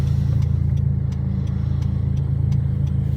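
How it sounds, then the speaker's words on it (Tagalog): A Honda's engine hums steadily from inside the cabin while stuck in traffic on Quezon Avenue, with a faint regular ticking clicking throughout. "Lagi yung traffic dito sa Quezon Ave."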